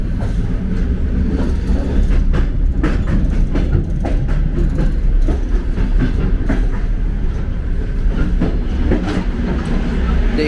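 A Soviet sleeper train carriage rolls along the rails with a continuous rumble and irregular clicking and clacking of wheels over track joints, heard from close inside.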